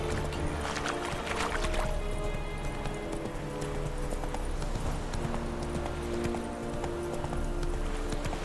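Geralt's horse Roach gallops in The Witcher 3, a steady run of hoof clip-clops over an ambient game background, moderately close and fairly quiet, with no voices.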